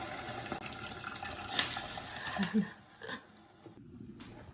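Water is poured into a cooking pan holding sardines, a moderate splashing, trickling stream that tapers off toward the end of a noisy kitchen scene.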